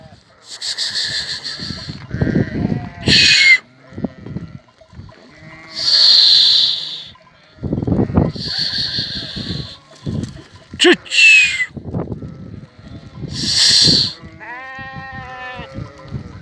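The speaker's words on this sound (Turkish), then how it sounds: "Koyunlarımız şimdi Merra'ya gidiyor." Sheep bleating several times, loud and near, with shuffling and rubbing noises between the calls.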